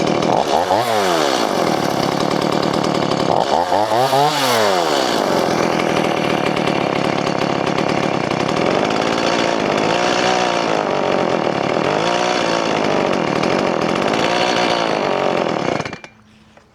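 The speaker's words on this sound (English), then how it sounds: "It's a great chainsaw." A chainsaw roars continuously at close range, its engine pitch swooping up and down as it bites into a Canary Island date palm, then cuts off at the end.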